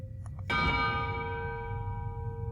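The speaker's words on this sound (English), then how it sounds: "That bell rings." A single bell in the Wizardry 8 video game struck once, a bright metallic clang that rings on with a long sustained decay, clear and alone over a low background rumble.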